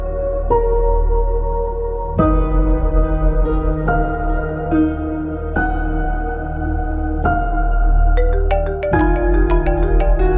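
Mobile phone ringtone playing a repeating melodic phrase in clear synthetic tones, loud and close, cycling several times without voices.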